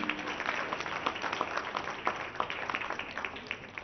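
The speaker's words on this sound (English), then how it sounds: "Big round of applause, please." An audience at a stage event claps steadily for several seconds, the dense applause holding at an even level and trailing off slightly at the end.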